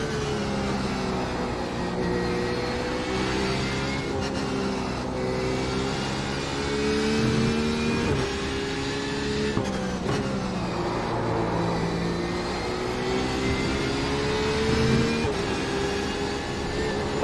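Porsche 911 RSR GTE racing at Spa-Francochamps in iRacing, its engine droning loudly and steadily through the lap, pitch climbing and falling with gear changes, with no talk over it.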